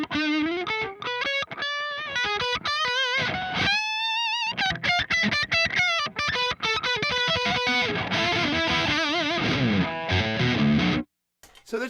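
Electric guitar played through an amplifier with a fair amount of gain, a run of distorted sustained notes, bends and fast picked phrases that is loud and upfront, cutting off abruptly near the end.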